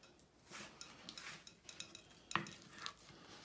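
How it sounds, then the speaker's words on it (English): A wooden spoon works margarine in a mixing bowl, giving soft, quiet scraping and squishing strokes with a couple of light knocks against the bowl, close and gentle. "you need to mix it with your wooden spoon and make it very,"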